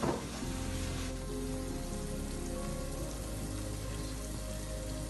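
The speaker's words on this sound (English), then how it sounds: "Okay, so now the onions are cooking" Onions cook with pepper powder in a pan for Indian pepper chicken, giving a continuous soft crackling sizzle after a brief louder clatter at the start, with no talk.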